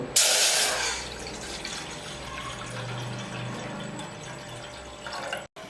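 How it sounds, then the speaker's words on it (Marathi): Water pours steadily into a metal pot on a lit gas stove, a bright splashing burst at first settling into a continuous filling rush, close by. "आता याच्यामध्ये पाणी घालू"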